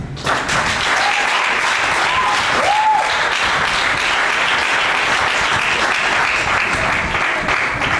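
Audience at an eloquence contest breaking into loud, sustained applause that fills the whole stretch evenly, a few brief whistles or cheers rising over the clapping early on.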